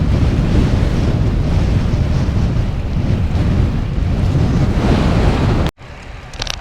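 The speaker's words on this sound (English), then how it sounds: "Now the wind is from my left rear quarter" Heavy wind roars into the microphone while a cyclist rides a road bike with 50 mm deep rims on a Kingwood road, a loud continuous buffeting that cuts out abruptly near the end, leaving only faint gusts.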